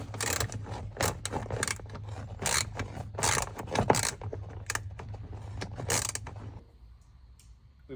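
Wrenching bolts out around an old dimmer switch on a 1973 Ford F100, with repeated metallic ratcheting, scraping and rasping strokes in irregular bursts close by, easing off to quiet near the end.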